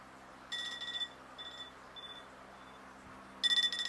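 Electronic timer alarm beeping during a nitrite water test on quarantined Malaysian aquarium fish, sounding in short high-pitched bursts of rapid beeps with gaps between them, near and clear over a quiet room hum.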